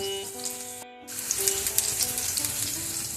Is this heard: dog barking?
no